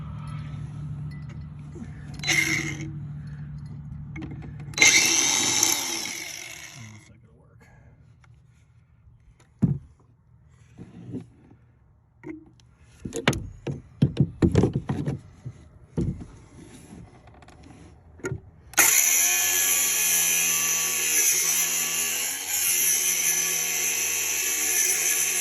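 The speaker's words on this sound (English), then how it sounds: "I'm going to try to hold this with a pair of channel locks, just so I have a little bit more to hold on to with the angle grinder" An angle grinder cuts a part off a 2005 Mini Cooper S, first a few short whining spin-ups, then scattered clanks of metal being handled, and finally a loud sustained high-pitched grinding whine, close by.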